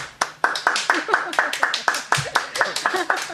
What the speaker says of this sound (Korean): 직원분들이 박수를 쳐주고 계십니다.